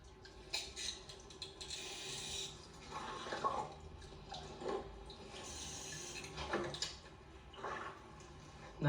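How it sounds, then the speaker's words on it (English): Water drains out through the bottom of a bonsai pot after watering, a steady trickling and dripping with intermittent splashy bursts, close and moderately quiet throughout. "I'm going to do this until the water drains clear."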